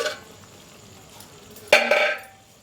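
A metal lid clanks as it is lifted off a pot of chicken korma simmering on low heat, a single sharp ringing knock followed by faint sizzling, close and without talk.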